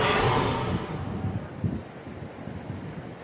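Choppy harbour water and gusting wind at the start of a swim race, with a loud gust at first that eases into steady, close lapping and buffeting.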